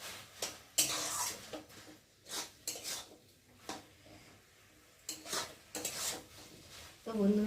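Banana flower (mocha) dish being stirred with sugar in a pan: scattered scraping and clinking of a utensil against metal in short bursts, moderately close, with quiet gaps between strokes.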